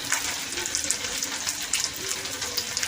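A torn bay leaf and dried chili fry in hot oil for a Bengali prawn and spinach dish, making a continuous crackling sizzle with sharp spitting pops throughout, close and fairly loud.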